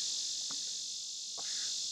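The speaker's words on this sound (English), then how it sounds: "Man, those bugs are loud." Loud, continuous chorus of insects, likely crickets, shrilling outdoors on a sunny morning, a dense steady drone that holds evenly throughout with no voices heard.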